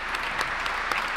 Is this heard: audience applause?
yes